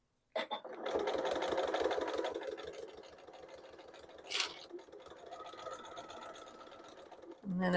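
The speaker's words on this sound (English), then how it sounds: "And then I'm going to sew off again, but I'll back stitch." A sewing machine stitches a fabric bag handle, running in a steady close mechanical whir with a rapid needle rhythm for several seconds, then slowing and stopping, with a brief louder burst partway through.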